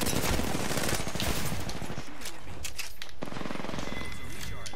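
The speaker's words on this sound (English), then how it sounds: "Opening fire." Rapid automatic gunfire in Apex Legends on the Kings Canyon map, a loud continuous stream of close shots with dense rattling bursts, and a player talking faintly underneath.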